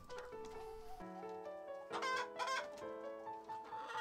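Chickens cluck and call in a steady, layered flock chorus close by, rising into a louder burst of cackling midway, with no talking.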